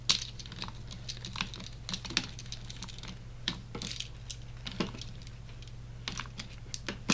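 A screwdriver tightens a terminal screw on a GFCI outlet during replacement in an old house, giving close, irregular small clicks and ticks of metal on metal in quick clusters over a low steady hum.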